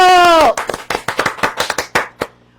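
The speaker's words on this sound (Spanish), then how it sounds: "un fuerte aplauso y bienvenida a José Miguel Alba Marquina" Right after a held spoken word, a studio audience bursts into a short round of sharp, close hand claps welcoming a guest on a Spanish-language TV show, thinning out quickly to a few last claps.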